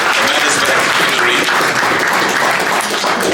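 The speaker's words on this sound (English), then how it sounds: "let's give him a big round of applause for that." A crowd at a boxing press conference applauds loudly and steadily throughout, dense clapping filling the room without a break.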